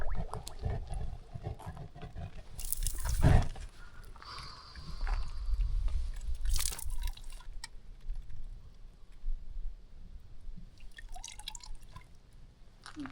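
Water dripping from a freshly quenched, hand-forged knife made from desert-found materials, outdoors. Scattered soft drips and splashes with one sharper splash early, amid low outdoor rumble and brief movement noises.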